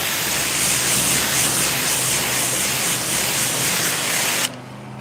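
Water blasting steadily onto a car during a rinse, a dense, loud hiss that runs unbroken for several seconds and then cuts off abruptly, leaving only faint low background sound.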